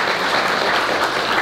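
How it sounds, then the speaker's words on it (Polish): A festival audience at a review event gives a burst of dense, even applause, a full wash of many hands clapping with no voices on top. "Duże brawa."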